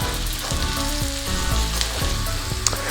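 Onions frying for shakshuka, a loud steady sizzle and crackle in a hot pan with occasional soft stirring taps.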